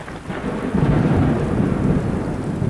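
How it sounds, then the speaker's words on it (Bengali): A heavy, low rumbling roar of thunder swells and holds loud close by, with rain noise blended underneath. "তখনই কাছে পিঠে কোথাও ভীষণ জোরে বাজ পড়ল।"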